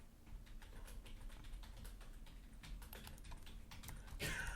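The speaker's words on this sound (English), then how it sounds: "us tapping on a keyboard" Keys tapped on a computer keyboard in steady, uneven clusters of light clicks, close and fairly quiet over a constant low background hum, with no talking.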